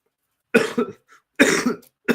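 A person coughs several times in short groups, harsh and close, with brief silences between the bursts.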